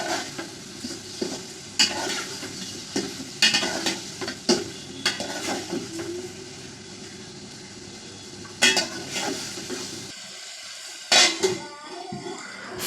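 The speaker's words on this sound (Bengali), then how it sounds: "মাংস দিয়ে আরও 5 মিনিটের মতো কষিয়ে নেব।" Meat sautés with spices in a pan, loud nearby scraping and stirring strokes clattering in bursts over a continuous sizzle, with a short pause near the end before more stirring.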